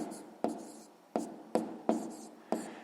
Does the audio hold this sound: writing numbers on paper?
yes